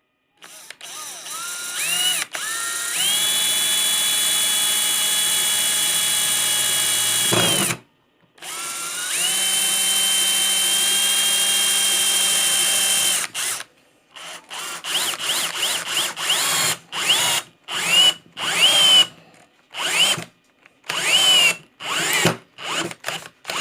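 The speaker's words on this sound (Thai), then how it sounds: "นี่เจาะโดยไม่ต้องใช้สว่านเจาะนำเลยใช้ตัวนี้เจาะเข้าไปเลยนะครับ" A power drill drives a 3-inch screw into wood without a pilot hole: two long, steady high whirring runs, then a series of short stop-and-start bursts as the screw is seated.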